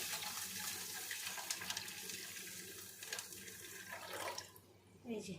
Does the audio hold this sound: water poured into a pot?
yes